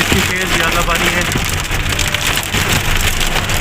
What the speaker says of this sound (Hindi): इतनी तेज़ बारिश है और इतनी तेज़ यालाबारी है।